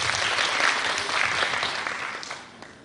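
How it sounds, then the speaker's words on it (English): Brief applause from a panel discussion audience, a close, lively patter of clapping that tapers off after about two seconds. "Let's give it a round of applause."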